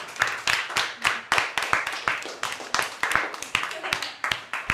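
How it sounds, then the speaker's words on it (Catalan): A class claps for a group of classmates, with uneven bursts of hand claps repeating through the clip, close and fairly loud, and voices mixed in between the claps. "un aplaudiment per aquest grup"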